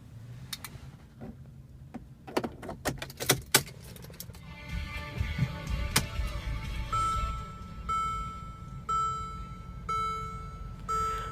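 Interior of a 2015 Mercedes-Benz GLA 250 4Matic as it is started: door and seat clunks, a key click, then the engine cranking and settling into a quiet idle with chime beeps repeating.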